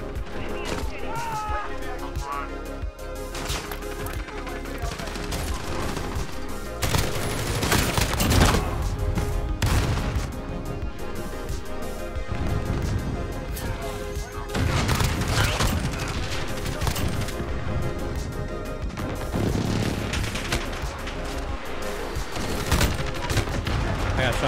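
Gunfire in Modern Warfare during a firefight around a building, with repeated bursts and scattered shots over several seconds amid dense game noise and some talk.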